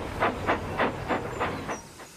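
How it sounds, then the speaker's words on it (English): A small steam tram chuffs away in a steady series of about seven soft steam puffs, evenly spaced and gradually fading as it pulls off, with a faint hiss between beats. "And he chuffed off to Gordon's Hill."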